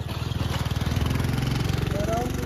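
A car engine idles during clutch-control practice on a hill climb, giving a close, steady, low throbbing pulse throughout, with a voice faintly present.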